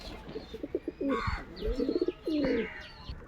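Domestic pigeons kept indoors coo in low, throaty rolling phrases, two or three bursts close by, with faint chirps and rustling in between.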